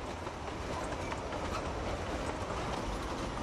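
The small Neral–Matheran hill railway train rumbles steadily along the rails, a continuous clattering drone heard from a moderate distance.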